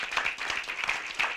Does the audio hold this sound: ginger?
no